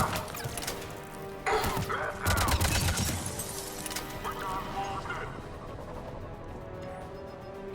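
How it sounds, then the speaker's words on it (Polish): Explosions in the Mass Effect 3 game, a few bursts of crashing, crackling blasts clustered in the first half, loud and close before fading to quieter background game sounds. "Jak ja lubię ten efekt wybuchu."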